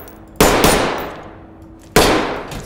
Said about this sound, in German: mit der linken Maustaste knallen wir da einen rein